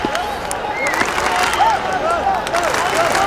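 A cricket crowd at a T20 World Cup match between England and Sri Lanka claps steadily in a large stadium, with a bright whistling tone weaving through it and a commentator speaking over the top.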